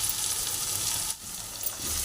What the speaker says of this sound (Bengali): এবার আমি ওই সিদ্ধ করা আলুটা আমি ছেড়ে দিলাম